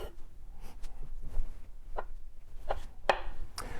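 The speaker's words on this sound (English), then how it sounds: "So I'm cutting these tomatoes into" Knife cutting tomatoes on a board while preparing Afghan salata: a series of separate, irregular chops, with a few sharper strikes near the end, over faint background noise.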